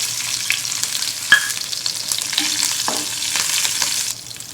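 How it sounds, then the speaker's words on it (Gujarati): Whole cumin, curry leaves and chili pieces fry in hot oil, giving a steady, close crackling sizzle with a few sharper pops and the scrape of stirring. No one speaks. "હવે આપણે તેજ તેલમાં આખું જીરું લઈશું એક ચમચી લીમડો લઈશું"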